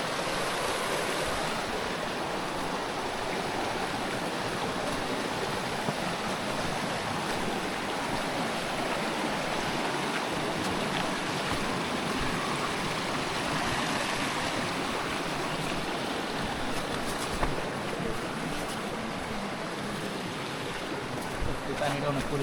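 Water of Nafakhum waterfall rushing down over rocks, a continuous loud broadband roar throughout, with voices faintly audible beneath it.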